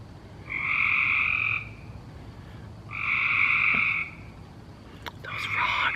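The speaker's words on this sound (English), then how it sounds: "Those frogs." Frogs croaking outdoors beside a backyard squirrel picnic table, in loud, steady buzzing trills of about a second each, repeated at intervals over a low background hum.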